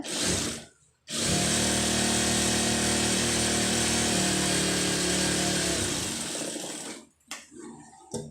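Sewing machine stitching a folded quarter-inch hem on a blouse lining, one loud continuous whirring run of about six seconds, close up, starting and stopping abruptly with brief quiet on either side.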